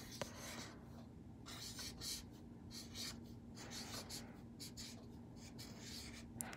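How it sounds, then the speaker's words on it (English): Pen or pencil writing a word on paper, a steady close scratching with short strokes and pauses, alone without talk. "I'm going to write square."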